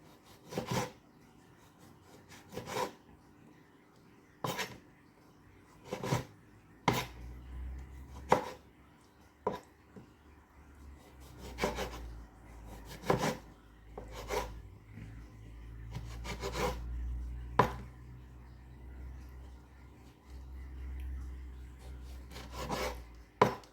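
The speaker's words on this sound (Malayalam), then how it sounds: "അപ്പോൾ ഈ ആപ്പിൾ ഞാൻ ഇതുപോലെ ചെറുതായിട്ടൊന്ന് കട്ട് ചെയ്തെടുക്കട്ടെ" An apple being cut into small pieces on a board, with a series of sharp, separate knife taps and scraping rubs at an uneven pace, close and fairly quiet with no talking.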